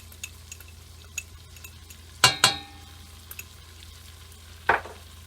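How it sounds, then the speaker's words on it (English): All-purpose flour goes into melted butter for a roux in a wood-fired seafood bisque, giving a quiet sizzle and stirring with a few sharp utensil clinks against the pan. "So my butter being melted, I'm going to add my all-purpose flour now."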